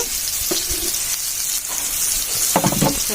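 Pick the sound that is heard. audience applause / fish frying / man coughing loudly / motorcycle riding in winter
fish frying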